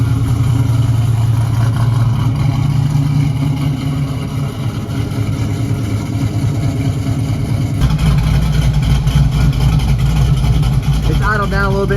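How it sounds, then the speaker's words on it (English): A cold 6.0 LS V8 with a Texas Speed cam, swapped into a 1967 Camaro with a slight exhaust leak, idles high and loud with a steady lumpy rumble throughout, while people talk over it. "Idle down a little bit, still idle a little bit high because it's still cold."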